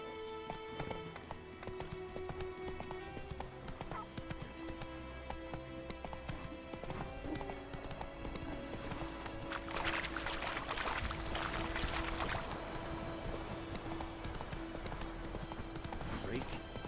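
Horse hooves pound rapidly and continuously as the horse gallops in Witcher 3: Wild Hunt, with game music and occasional speech layered over the steady beat.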